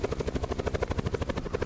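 A helicopter in the Call of Duty Black Ops 4 Blackout video game, with a fast, steady rotor chop pulsing loudly and close for the whole moment.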